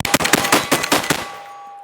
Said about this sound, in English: It runs them all fast fire.